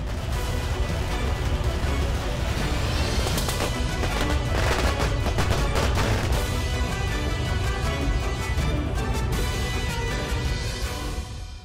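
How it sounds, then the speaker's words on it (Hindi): Firecrackers set off by children crackle in rapid, dense bursts, loud and continuous like a string of bangers going off nearby. "अरे ये तो बच्चे पटाखे चला रहे थे"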